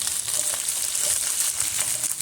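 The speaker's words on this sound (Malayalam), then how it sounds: "ഇത്തിരി എണ്ണ ഒഴിച്ചിട്ട് ഞാൻ ആ വെണ്ടയ്ക്കൊന്ന് മൂപ്പിച്ചെടുക്കുന്നുണ്ട്" Okra frying in a little oil in a pan gives a steady, bright sizzle with light crackles and occasional stirring scrapes, close and continuous throughout.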